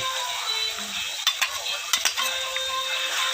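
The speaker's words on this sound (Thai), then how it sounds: "แล้วเราก็คลุกเคล้าให้เข้ากัน" Pork stir-fried with onion, spring onion, egg and curry paste in a pan: a continuous bright sizzle with a few sharp utensil scrapes and clicks as the mixture is tossed, close and fairly loud.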